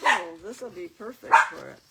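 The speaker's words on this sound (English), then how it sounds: "Sorry for the barking." A little puppy dog barks in quick, high yips close by at home while someone talks over and between the barks.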